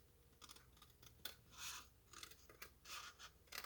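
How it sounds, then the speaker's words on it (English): Scissors snipping through card kit pieces for a greeting card, a series of short crisp cuts and rustles close by, fairly quiet, with no talk. "you're gonna cut all these pieces."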